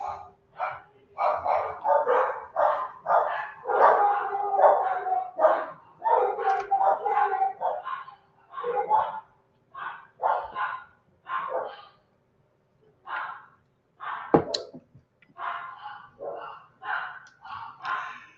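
Several dogs bark loudly and repeatedly in rapid, overlapping bursts, pausing briefly before the barking starts up again.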